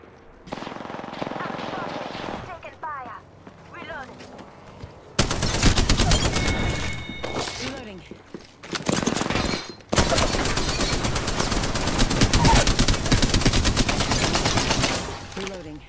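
Automatic weapon fire in Apex Legends, likely the Spitfire, with dense loud bursts from mid-clip onward, a short volley before that, and game voice callouts mixed in.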